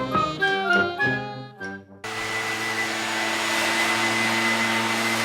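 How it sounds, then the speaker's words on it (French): A vacuum cleaner switches on abruptly after a few seconds of music, then runs with a loud, steady motor whine and a broad roar, close by with no voices. "le son de l'aspirateur me donne déjà envie"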